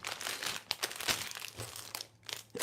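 Crinkly plastic packaging from a Lego Star Wars battle pack is handled and crumpled close up in a series of irregular rustling bursts with short pauses between.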